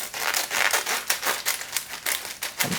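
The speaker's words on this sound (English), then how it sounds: "So we're just going to take our scissors" Scissors snipping through folded paper to cut out a heart shape, a steady run of crisp, close crinkling cuts alone with no voice.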